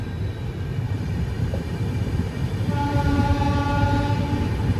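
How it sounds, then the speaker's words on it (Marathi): An AC double-decker superfast train pulls out of Navsari station platform 2, a steady loud rumble and rolling rail noise with a drawn-out horn-like tone joining in the second half. "नवसारीच्या फ्लॅट क्रमांक 2 नंबरवरून आपली ट्रेन रवाना होते"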